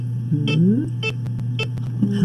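An eye-movement biofeedback training device gives off a steady electronic tone broken by short, repeated beeping pulses, loud and close, with no one speaking.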